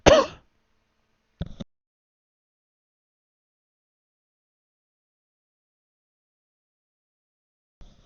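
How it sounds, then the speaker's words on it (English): A person coughing or clearing the throat close to the microphone, one sharp burst followed by a shorter second one, with long silence between and a faint third sound at the end. "Coughing my fucking lungs out over here"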